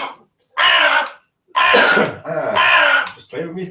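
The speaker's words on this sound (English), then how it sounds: "Just clearing my throat, look." A person clears their throat several times up close, in short rough bursts separated by brief pauses.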